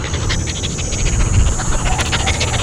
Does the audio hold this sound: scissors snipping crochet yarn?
no